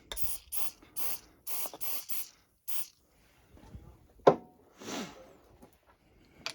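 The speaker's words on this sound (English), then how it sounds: "And you want to spray some oil down" Several short hissing bursts of oil spray into a shotgun barrel in quick succession, then a pause, a sharp click and one longer spray; close and fairly quiet, no talking.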